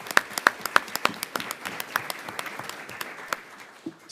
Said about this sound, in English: let's give a round of applause for Justin Seitler